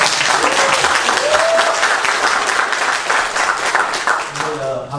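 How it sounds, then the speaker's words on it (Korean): Loud, sustained applause from a congregation at a church ordination service in Chicago, a dense wash of clapping that fills the room and fades slightly toward the end. "박수 칠라면 크게 크게 쳐주세요."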